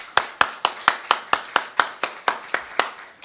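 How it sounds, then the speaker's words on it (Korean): On Easter morning a church congregation claps in unison in praise, about thirteen sharp, evenly spaced claps in a steady rhythm, close and distinct with no talk. "우리 부활하신 주님께 영광의 박수를 올려 드리겠습니다"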